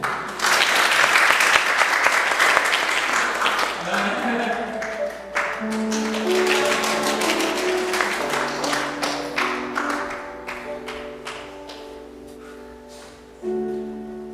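A congregation at a church service breaks into loud applause that gradually thins into scattered claps, while sustained organ or keyboard chords rise and carry on beneath it.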